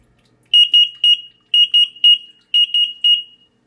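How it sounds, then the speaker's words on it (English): Loud, shrill electronic sump pump water level alarm beeping in three bursts of rapid chirps, each burst four or so high-pitched beeps, with short pauses between. "a third device, which is an alarm"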